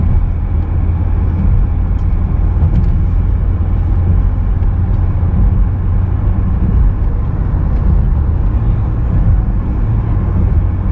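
A car cruises at a steady highway speed of about 120 on a long intercity road trip, producing a constant, loud, low rumble of road and engine noise from inside the cabin, unchanging throughout.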